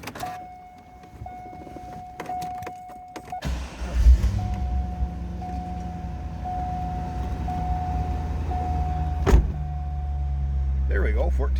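1998 Chevrolet Corvette Pace Car convertible V8 cranking and catching with a sudden low rumble, then settling into a steady, close idle with a brief rev blip near the end; a chime tone sounds before and during.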